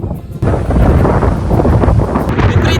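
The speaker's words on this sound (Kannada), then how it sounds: "ಗಾಳಿ ಗುರು" Strong wind over a lake roars and buffets the microphone continuously, a loud, rough rumble with gusts rising and falling.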